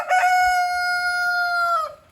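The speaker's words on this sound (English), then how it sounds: "These are our Plymouth Rock chickens" A Plymouth Rock rooster crows once nearby, a loud, clear cock-a-doodle-doo that holds steady for about two seconds before trailing off.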